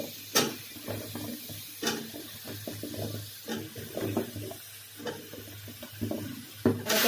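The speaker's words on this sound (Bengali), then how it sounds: "এখন দিয়ে দিব চাল কুমড়ার টুকরোগুলো।" Pieces of ash gourd drop into a pot of hilsa fish head curry: a handful of sharp wet knocks and splashes spaced a second or so apart, with soft scraping and bubbling in between. Close-up, and nobody speaks.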